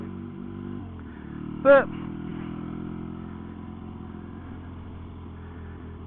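Motorcycle engine on a test ride after a fill-up, running with a steady low drone and rumble throughout, a brief sharp clatter near the start, with someone talking over it.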